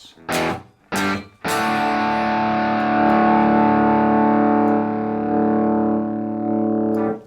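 An electric guitar plays through a Blackstar IDX amp set to small room reverb, giving a distorted tone: two short muted chugs, then a loud sustained chord that rings for several seconds with a short reverb tail, without any talking.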